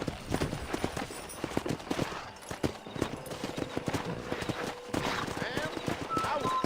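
Horse hooves clip-clop in the video game Red Dead Redemption, a steady rhythm of sharp knocks throughout, with voices talking over them and faint background noise.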